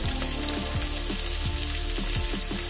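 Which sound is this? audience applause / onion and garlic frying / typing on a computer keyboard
onion and garlic frying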